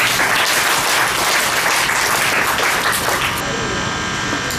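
An audience claps after a meditation session, with dense, loud applause filling the space for several seconds before tapering slightly, under a steady electrical hum that emerges toward the end.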